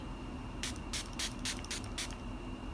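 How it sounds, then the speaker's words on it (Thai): A handheld water spray bottle is pumped onto two concealers, giving six quick, crisp hissing spritzes in an uneven rhythm over a quiet room background. "เราจะใช้สเปรย์น้ำนะคะ ฉีดไปที่บริเวณ เอ่อทั้ง 2 ตัวนี้เลย"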